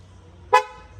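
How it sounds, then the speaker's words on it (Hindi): A single short Mercedes G-Wagon horn toot, sounded remotely from a phone, clear and fairly close, in an otherwise quiet setting. "इसका मैं हॉर्न बजा सकता हूँ कहीं से भी"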